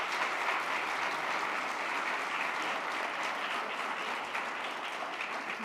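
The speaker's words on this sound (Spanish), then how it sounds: "ahorita lo que queremos es darle un fuerte aplauso a Elaine por su conferencia" Steady, full applause from a sizable audience after a conference talk, a continuous wash of clapping that holds at an even level throughout.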